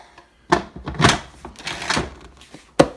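The lid of a Ninja Foodi pressure cooker is handled and fitted on, giving close thuds and scrapes of plastic and metal, several knocks over a few seconds, and a sharp final click.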